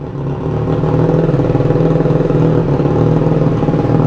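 A Triumph Street Triple 765RS fitted with an SC Project exhaust idles close by, loud and deep, with a steady throbbing pulse after a brief rise in level at the start.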